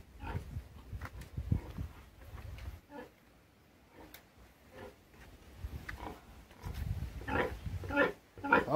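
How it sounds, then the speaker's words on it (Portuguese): Large pigs grunt in a pen on a small farm, low rough snorts coming in bursts near the listener, mixed with people talking nearby. "Olha o poicão grande aqui."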